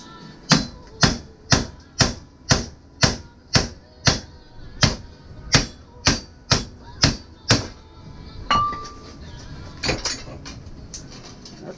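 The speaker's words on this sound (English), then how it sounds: "When all else fails, get a bigger hammer." Hammer blows ring out while replacing a front wheel bearing on an S10 ZR2, about fourteen loud, evenly spaced metallic strikes, then a brief scrape and clatter as the work settles.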